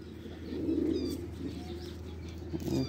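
Pigeons coo softly in a low, steady murmur, with faint wing flaps and light chirps at moderate distance in an open rooftop setting, with no talk.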